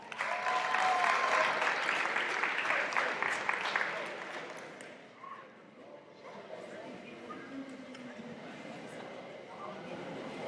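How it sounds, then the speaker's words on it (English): An audience applauds at a high school athletic awards ceremony, with loud, dense clapping for about four seconds that then drops to a quieter room with a voice speaking. "Give him a round of applause."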